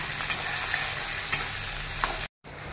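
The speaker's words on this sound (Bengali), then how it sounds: "এই পেঁয়াজ ভাজার সাথে একসঙ্গে আমি একটু ভেজে তুলে নিলাম" Potatoes and onions fry together in hot oil in a home kitchen while a fish curry is prepared, giving a steady, close, dense sizzle. The sound cuts out for a brief moment near the end.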